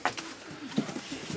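A pigeon coos softly close by, a few low throaty murmurs with small rustling sounds in between.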